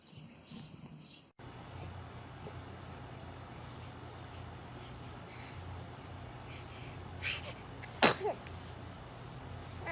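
A baby lets out a quick sneeze, with a small snuffle just before it, heard close up over a steady low indoor hiss.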